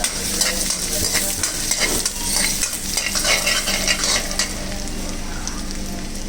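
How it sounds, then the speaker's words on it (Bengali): Garlic sizzling and frying in hot ghee in a pan for a vegetable soup, a steady close crackling hiss with stirring scrapes running throughout, no talking. "এরপর আমি এটার ভিতরে দিয়ে নেব ঘি এবার আমি এখানে দিয়ে দেবো গার্লিক"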